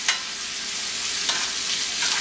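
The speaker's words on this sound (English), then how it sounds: "I'm just going to baste with butter" Steak sizzling loudly in a hot pan while being basted with butter, garlic and rosemary, a constant bright frying hiss broken by two or three sharp spoon clinks against the pan.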